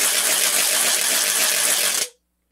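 A loud wooden ratchet cranked in an orchestral percussion setting, giving a dense, continuous rattling clatter for about two seconds before stopping abruptly, with nothing spoken over it.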